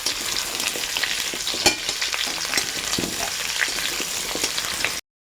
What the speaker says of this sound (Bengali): এবার এগুলোকে দিয়ে ভালো করে একটু ভাজা ভাজা করতে হবে।